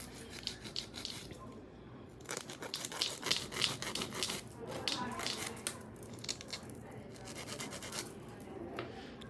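Steady scratchy rasping of a nail file being worked straight against a long square acrylic nail, close up and fairly quiet, with short rhythmic strokes continuing throughout.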